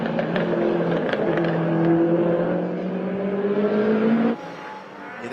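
Liam Hooper's race car powers through a corner on track, its engine droning loud and steady with slowly rising pitch before an abrupt lift-off near the end.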